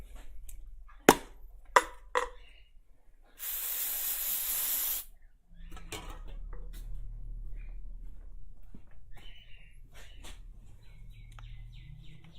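Brake cleaner sprayed while cleaning up during an oil change on a red KE70 Corolla, a single loud sustained hiss of about two seconds after a few sharp knocks, followed by lower rumbling, clatter and faint bird calls outdoors.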